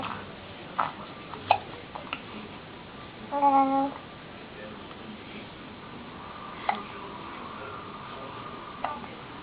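A baby hiccups indoors, giving several short, sharp hiccups spaced seconds apart, with one brief soft vocal sound in between.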